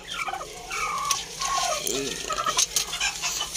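A broody hen and other chickens cluck and warble nearby amid a busy farmyard din, with a short rising squawk midway and scattered clatter.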